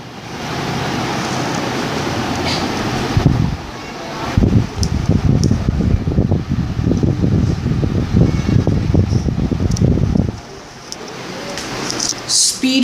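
A Khaitan Magnate 40-inch ceiling fan runs at speed 4, giving a steady broadband whoosh of moving air that swells and rustles, close and fairly loud, with no talk over it.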